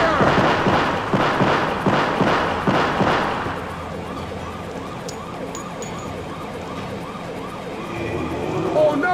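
Rapid weapons fire in Sonic Adventure DX, a loud, close burst of repeated shots in steady rhythm, easing into a softer, fast pulsing clatter with a wailing, siren-like tone beneath.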